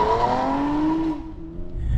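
A 2020 Toyota Avalon TRD launching at full throttle, its engine note rising steadily with a brief wheel-spin bog before pulling away, loud and close, then fading as the car moves off.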